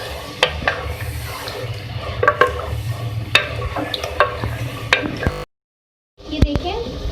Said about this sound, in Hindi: अब मैं इसमें ऐड करूंगी चिकन। इसके साथ हम इसको भी फ्राई कर लेंगे।